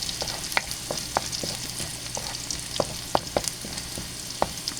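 Garlic frying in oil until light brown for lumpiang hubad, a gentle continuous sizzle punctuated by scattered spatula taps and scrapes, close and unaccompanied by speech.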